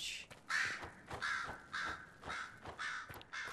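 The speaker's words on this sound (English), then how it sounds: "Crows." Crows caw in the fantasy game Dragon Age Inquisition: a run of about seven harsh, evenly spaced calls, fairly close and clear, with no voices over them.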